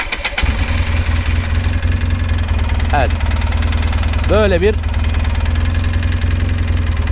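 A Polaris Sportsman 800 Twin Touring ATV engine starts with a short crank and settles into a steady, loud, throbbing idle close by, while someone talks over it briefly.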